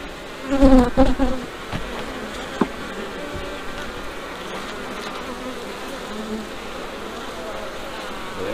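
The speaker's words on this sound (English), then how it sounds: "A lot of bees on it." A dense, steady buzzing of many honey bees on a hive frame close by, with a few louder bumps and handling knocks near the start.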